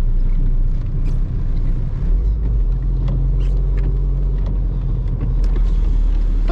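Ring Tracktor car on a wet lap of the Nürburgring, giving a constant low engine rumble with wind buffeting and scattered splashy knocks and clicks, with no talking.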